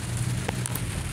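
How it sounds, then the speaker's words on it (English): Steady rain hisses and patters in a video game, a dense even wash of droplets with faint crackles, continuous and close throughout the brief stretch without talking. "I didn't really want it to rain like this"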